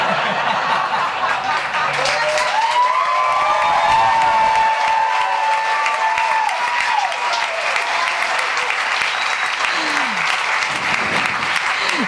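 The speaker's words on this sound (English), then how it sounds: "I've waited so long to get applause for that." A theater crowd at a Broadway benefit breaks into sustained applause and cheering, with scattered whoops and some laughter riding over steady clapping. A few faint voices surface in the crowd.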